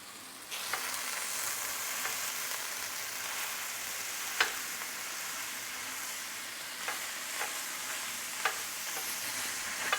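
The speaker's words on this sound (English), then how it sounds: "The meat is sizzling, and now I'm going to start chopping it up." Steady hiss of ground beef sizzling in a pan, with occasional sharp clicks and scrapes from a utensil chopping through it.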